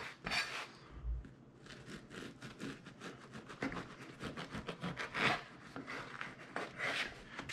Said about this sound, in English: I'm gonna cut it pretty thick because I want it to be like crispy soft